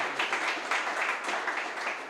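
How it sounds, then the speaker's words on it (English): An audience at an AI lecture on autonomous vehicles gives the speaker a round of applause, a steady, moderately distant wash of many clapping hands. "can we give him a big round of applause?"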